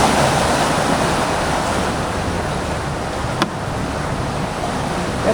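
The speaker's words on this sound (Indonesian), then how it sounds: "Ombaknya agak besar." Rather big ocean waves roll in as a continuous loud wash of surf with wind noise on the microphone, one brief knock partway through and no talk.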